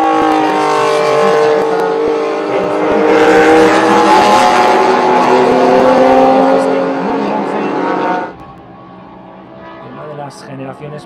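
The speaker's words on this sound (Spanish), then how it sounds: "Vemos aquí a un Porsche 911 ganando distancia" A historic Porsche 911 races hard around the Jerez circuit during a historic endurance event, its loud, sustained engine note climbing and holding for several seconds before dropping away abruptly, with faint track noise after.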